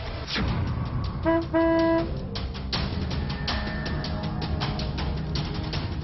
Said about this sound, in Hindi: इसलिए हॉर्न बजाना भी जरूरी है।